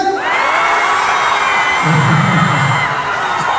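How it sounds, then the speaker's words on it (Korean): A large concert crowd in Daegu cheers and shouts together in a sustained roar, with children's high voices rising above it and a brief swell partway through. "우리 앞에 분들 함성 한번 들어볼게요"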